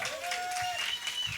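A crowd applauds with dense, steady clapping throughout, a bright whistle-like tone sliding across part of it.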